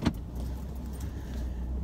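Steady low car interior rumble while driving along a road, with a brief jangle of keys at the start and no talk.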